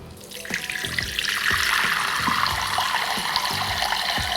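Cold tap water pours steadily into a small bowl at a kitchen sink, a close, continuous splashing rush that grows fuller as the bowl fills, with no talking.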